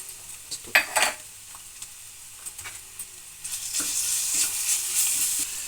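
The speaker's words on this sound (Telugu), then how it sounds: "ఉల్లిపాయ ముక్కలు పచ్చిమిరపకాయ ముక్కలు వేసుకొని కొద్దిగా వేగాలి" Onion and green chili pieces fry in a pan, with scraping stirs and metal clinks early, then a rising, steady sizzle that grows louder toward the end. No one speaks.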